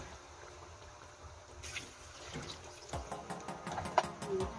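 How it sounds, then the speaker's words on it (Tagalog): Two cups of water poured into a pot of beef caldereta with cheese, a faint trickling stream that grows a little louder and splashier toward the end. "maglalagay na tayo ng tubig ng 2 cup of water"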